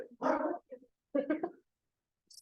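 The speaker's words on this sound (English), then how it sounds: "Welcome, Irene and puppies." Puppies make short whimpering and yipping vocal bursts in quick succession, close and fairly loud, with a brief pause between groups and a faint high squeak at the end.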